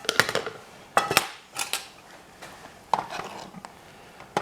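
Knife slicing Italian sausage over a cutting board beside a camp stove with a canteen cup, sharp clicking cuts and scrapes coming in irregular clusters, close and fairly quiet with pauses between strokes.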